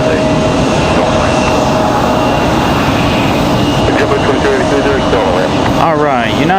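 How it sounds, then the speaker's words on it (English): A United Airbus A319 jet roars loudly and steadily on its takeoff roll, bound for Newark, with people chatting close by over the engine noise. "All right, United 1238 off to Newark, New Jersey. That A319."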